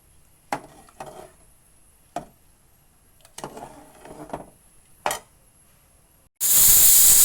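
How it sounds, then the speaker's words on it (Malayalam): A pressure cooker on the stove lets out a loud, sudden steam whistle that bursts in abruptly at the end and keeps hissing steadily, following a few soft clatters and knocks of kitchen work. "കുക്കർ ഒരു വിസിലൊക്കെ വന്നിട്ടുണ്ട് കേട്ടോ."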